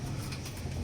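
Pigeons in a loft give a brief, muffled coo over a dense, noisy background.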